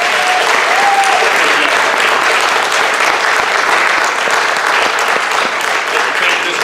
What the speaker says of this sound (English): give one more round of applause to our old members and welcome those new members to National Honor